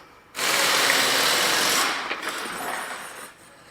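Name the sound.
vehicle lift lowering a Mazda CX-9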